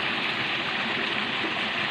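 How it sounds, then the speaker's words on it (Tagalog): A small creek runs in a steady, close rush of flowing water, broadband and unbroken, with no voices. "Dito yung sapa na maliit"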